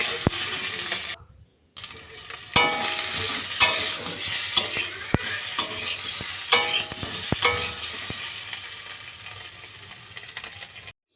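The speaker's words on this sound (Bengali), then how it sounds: "তারপর আলুগুলো দিয়ে দিয়েছি, দিয়ে ভেজে নিচ্ছি" Potatoes frying in a kadai after eggs were fried, with a steady sizzle under repeated sharp clinks and scrapes of a spatula stirring against the pan, close and fairly loud, with a brief silent gap near the start.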